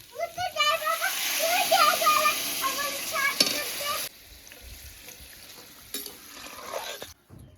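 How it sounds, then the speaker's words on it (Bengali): Water is poured into a pan of fried kohlrabi pieces, giving a loud sizzle and splashing with stirring, then the frying settles to a quieter hiss; a voice talks briefly near the start. "এখন পরিমাণ মতো জল দিয়ে দেবো"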